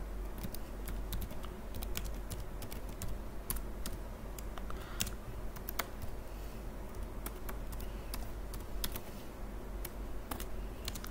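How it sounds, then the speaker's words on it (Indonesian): Fingers type on a computer keyboard with quick, uneven clicks and taps in close, steady bursts over a low background hum. "Kemudian kita akan mengetikkan nama"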